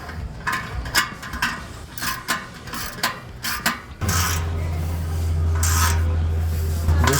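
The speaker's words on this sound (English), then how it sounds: "Let's start tightening these clamps." A ratchet tightens the clamps on an MBRP cat-back exhaust under a 2015-2022 Dodge Challenger 3.6L, with a run of short clicking strokes. A steady low hum then sets in and continues to the end.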